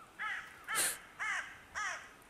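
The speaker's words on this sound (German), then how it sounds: "Ja, Raben sind nur Raben." Ravens caw in the horror video game The Cursed Forest: four harsh, clear calls spaced evenly about half a second apart, each loud and alone against a quiet background.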